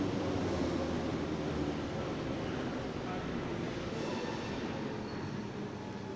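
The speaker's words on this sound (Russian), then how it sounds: "Подъехал поезд в этом же направлении до станции Селигерская." A Moscow metro train pulls into Petrovsko-Razumovskaya station, a steady rumbling roar of wheels and motors that fades slightly as it slows.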